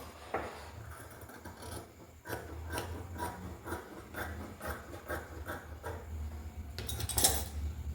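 Scissors cut the neck opening in a piece of garment fabric, producing a steady series of soft, close snipping and rasping cuts on a table, with no one speaking.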